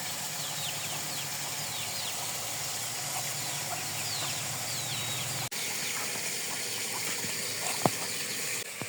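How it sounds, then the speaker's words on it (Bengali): Young chicks let out in the morning chirp and peep in quick high bursts over a rushing background hiss, with a clunk midway and a couple of taps late on. "এই যে মুরগি বাচ্চাটা ছেড়ে দিচ্ছি সকালবেলায়।"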